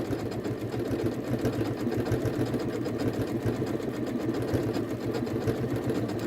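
A Janome sewing machine fitted with a closed toe F foot stitches steadily up close, a fast, even mechanical whirr with rapid regular needle clatter and no voices.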